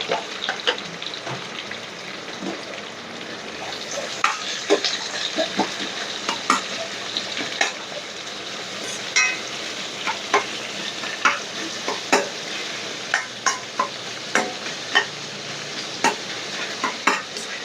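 Onion sautéing in hot oil in a pan for homestyle mushroom chilli, with a continuous close sizzle and a run of sharp spatula clicks and scrapes that grow more frequent over time, without speech.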